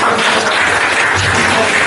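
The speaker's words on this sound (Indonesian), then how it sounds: "Tepuk tangan buat Mbak Dea." Applause for Mbak Dea at a youth journalism training event in Kradenan, Blora: a dense, steady burst of clapping from a crowd, filling the whole short moment with no voices over it.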